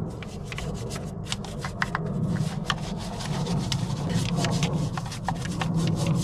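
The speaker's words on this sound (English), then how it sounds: "we're just gonna come back to this valve cover, give it a good scrub" Brush scrubbing a degreased engine valve cover, a continuous close rasping scrape with quick repeated strokes throughout.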